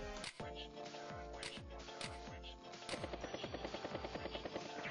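A battlecopter attack in Advance Wars: Days of Ruin, with a rapid mechanical rotor chop and bursts of gunfire over game music, the beats quickening to a steady pulse toward the end.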